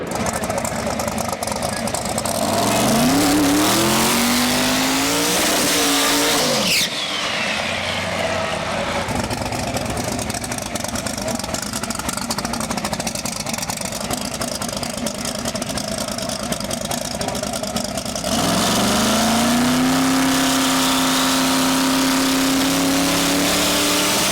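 A street car makes a world-record drag strip run, its engine revving loud with rising pitch sweeps at the launch and again near the end, under steady mechanical roar throughout.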